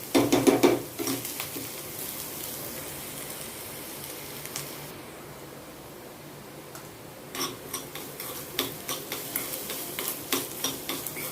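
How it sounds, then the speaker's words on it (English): Ginger sautés in a pan until brown, a low steady sizzle under repeated scraping and tapping of a spoon against the pan, the stirring clicks bunched at the start and again toward the end. "We need to saute this till it is nice and brown in color."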